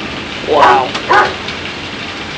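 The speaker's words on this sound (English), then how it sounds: "My dog is just flipping out." A dog barks twice in quick succession, loud and close, while a thunderstorm goes on outside, with steady background rumble and noise between the barks.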